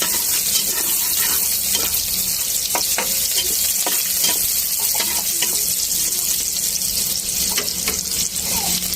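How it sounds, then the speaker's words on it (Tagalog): Vegetables sautéing with onion and garlic in a hot pan, a steady broadband sizzle running throughout with occasional scraping stirs, close and fairly loud, no talking. "nilagyan ko na rin yung gulay. Igigisa"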